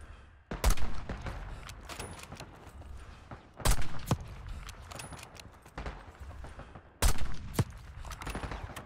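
Three heavy sniper rifle shots in Call of Duty: Black Ops 6, each a loud, sharp crack spaced a few seconds apart, with bolt and handling clatter and scattered distant gunfire between them.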